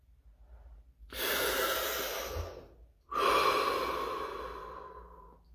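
A deep breath drawn in slowly and then let out in a long, audible exhale, two broad breathy swells separated by a short pause, close and clear with no talking.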